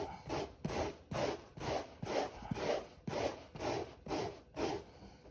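A rasp shaves the foam of a Honda CRF300L Rally motorcycle seat in about ten steady back-and-forth strokes, each a close, rough scraping rub, with no talk.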